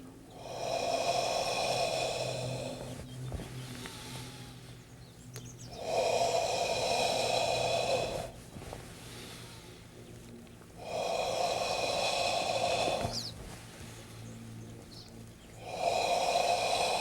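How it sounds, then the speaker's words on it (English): Deep qigong breaths during a slow guided exercise, drawn in and let out in long sustained airy swells about every five seconds, close and clear with no talking over them. "Remember, each time you inhale, whole body fills with fresh energy."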